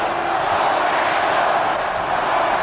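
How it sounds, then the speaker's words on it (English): A football stadium crowd at the 1961 Grey Cup, Winnipeg Blue Bombers against Hamilton, roars in a dense, steady wash of massed voices, loud and continuous, with no distinct chant rhythm standing out. "And listen to the crowd set up the chant now."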